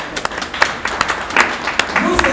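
An audience claps and cheers in a steady wash of applause, with sharp individual claps standing out throughout and a voice rising near the end.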